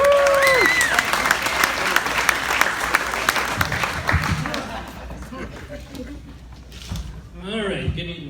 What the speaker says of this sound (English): How about a round of applause for Mr.